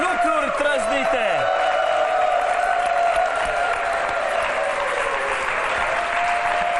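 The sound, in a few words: audience applause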